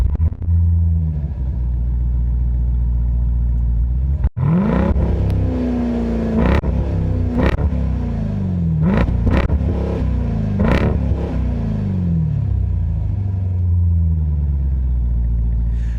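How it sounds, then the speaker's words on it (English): A 2025 Dodge Durango SRT Hellcat V8 fires up with a loud cranking roar, then settles into a deep idle punctuated by several sharp, rising revs that fall away again, heard close and alone. "let's go ahead and fire it up. You can remind yourselves just how good that V8 sounds."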